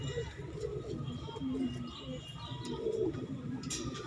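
Pigeons cooing at a Delhi pigeon sale, low soft coos repeating near the microphone over steady background noise, with someone talking faintly among the birds.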